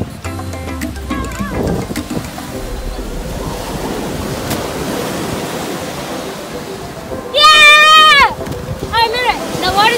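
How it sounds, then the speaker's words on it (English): Beach waves and surf make a continuous broadband wash throughout, with a louder surge near the end. Wind buffets the microphone, and a brief high squeal cuts in midway. "So we're at the beach now."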